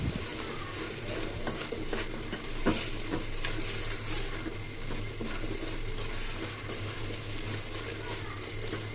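Ground spices, including coriander and cumin powder, are stirred into a sizzling pan of frying food with tomato, giving a continuous hiss broken by soft scraping strokes.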